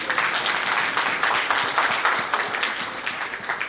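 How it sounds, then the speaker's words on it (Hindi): Lively audience clapping at a poetry gathering (mehfil), a dense, steady patter of many hands close and loud, continuing evenly without speech. "अगर मिलते हैं तो ताली बजा देंगे।"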